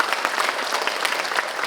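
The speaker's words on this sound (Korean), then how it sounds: "큰 박수 부탁드리겠습니다" A crowd of parents at a Daejeon education office training session claps steadily for a high-school teacher being introduced, dense, even applause filling the room without pause.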